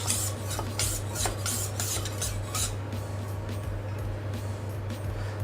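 A chef's knife is drawn across a coarse 1000 grit whetstone, giving a continuous close gritty rasp with repeated stroke surges over a steady low hum.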